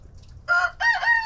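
A hen gives two short, nasal squawking clucks close by, clear against a quiet low background.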